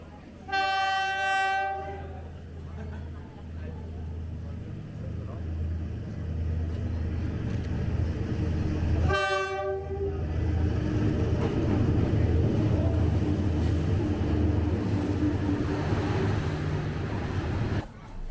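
A train rolls through a narrow street lined with cafes in Hanoi, sounding two loud horn blasts over a steady rumble and clatter of wheels that swells as it passes close by.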